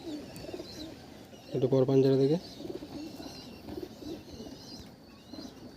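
Pigeons coo in a loft of high-quality local birds, a clear burst of stacked, throbbing calls mid-clip, standing out against a steady background hum while people talk nearby.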